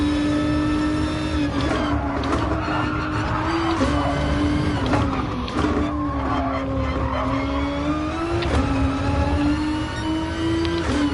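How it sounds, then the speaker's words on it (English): Hard racing tyres squeal on a car in Gran Turismo Sport at Suzuka. A sustained, wavering squeal rides over the engine drone for the whole stretch, loud and continuous, with no voices. "I don't usually like to race if I can hear my tyres"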